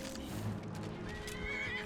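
A horse neighs in the Skyrim video game, a fairly faint whinny over a steady background of game ambience and soft hoof clatter.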